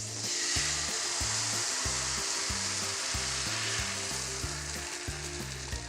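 Crepe batter sizzles in a hot frying pan greased with oil, giving a steady, close, fairly quiet hiss with faint scraping as the batter is spread around.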